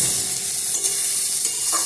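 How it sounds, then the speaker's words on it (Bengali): Winter vegetables with salt sauté in a pan for khichdi, a loud, even sizzle close up with occasional brief stirring scrapes throughout. "দিয়ে ভালো করে সবজিটাকে আমি একটু কষিয়ে নেব।"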